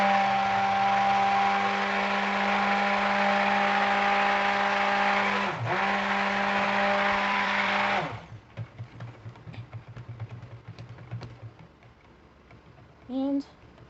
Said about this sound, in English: Please excuse the noise as I blend.